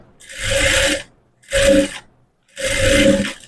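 Sewing machine stitching piping onto a blouse, three bursts of steady whirring stitching separated by short pauses, close and clear with no talking.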